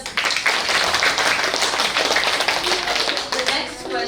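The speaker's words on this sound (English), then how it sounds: "Clap hands for yourself." A school quiz audience claps for a team after a round, a dense burst of many hands that continues throughout, with the patter staying fairly even and close.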